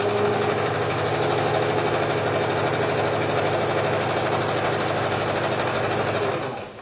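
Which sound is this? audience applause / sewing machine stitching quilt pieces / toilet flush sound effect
sewing machine stitching quilt pieces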